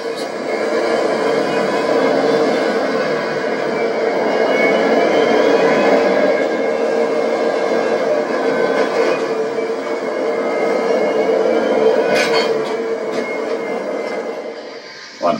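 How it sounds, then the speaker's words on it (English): Santa Fe steam locomotive 3751, aided by a pair of helper locomotives, produces a continuous loud rumbling roar with steady mechanical clatter for the whole stretch. A faint whistle-like tone comes near the end. "A pair of familiar Santa Fe helpers will assist the train as it makes the ferry move to Hobart Yard."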